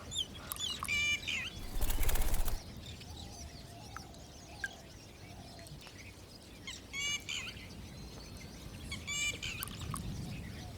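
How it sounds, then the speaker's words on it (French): Many birds chirp and call from several directions around small ponds in Sri Lanka, with a burst of flapping wings and fowl-like clucking in a busy outdoor setting. "Autour des petites mares se concentrent et s'épanouissent des milliers d'oiseaux de toutes les tailles"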